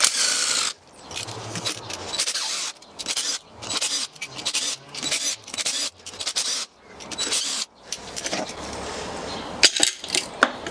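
Ratchet wrench loosening E10 Torx bolts on a car engine's oil pump assembly, close and loud, with repeated bursts of fast clicking separated by short pauses, no talking.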